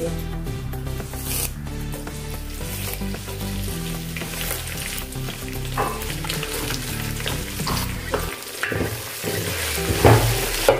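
Coconut, split chickpeas and curry leaves fry steadily in a pan, a continuous crackling sizzle with scraping stirs, close and fairly loud throughout, with a sharper spitting burst near the end.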